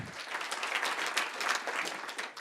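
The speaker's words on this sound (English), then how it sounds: "So give yourself a round of applause for accomplishing your first big step" Audience applause at the opening of NYC School of Data 2020, a dense patter of many hands clapping steadily and fairly close for a couple of seconds with no talk over it.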